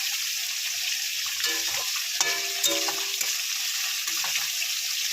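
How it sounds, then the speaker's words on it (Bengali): Dried fish frying in a pan with onion and garlic gives a continuous close sizzle, with a few soft clinks of stirring scattered through it. "এখানে শুটকি মাছটা পেঁয়াজ রসুন সব দিয়ে দিয়েছি কষানো হচ্ছে এটা"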